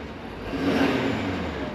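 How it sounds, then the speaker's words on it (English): A 2022 Ford F-450 Super Duty with a 6.7L diesel V8 revs briefly, a low engine rumble swelling up with a faint whistling tone on top, then holding steady, no talking. "love the turbo whistle of this diesel V8. Revs really nicely too."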